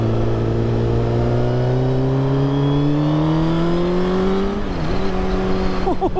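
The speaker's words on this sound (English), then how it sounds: "The exhaust sounds amazing. It's a Pipeworks exhaust that's been on since 2011" A Suzuki GSX-R1000 inline-four motorcycle with a Pipeworks exhaust pulls hard through a gear, its pitch climbing steadily before a quick shift and renewed rise, loud and close, from on board.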